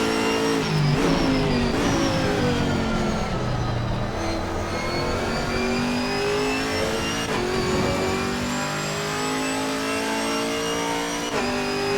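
Chevrolet Camaro GT4 race car engine at Donington Park, loud and close, revving hard through repeated upshifts, each gear change dropping the pitch before it climbs again.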